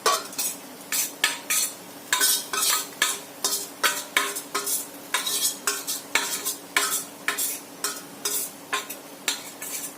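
Fish roe and cracked egg stirred and fried together in a pan: a quick, steady run of sharp spoon scrapes against the metal, close and loud, over a light sizzle.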